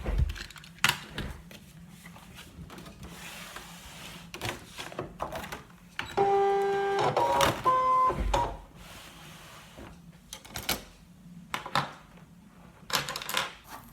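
A Brother ScanNCut cutting machine feeds in its cutting mat, a steady motorized whirr lasting about two seconds amid scattered clicks and taps, quiet and close.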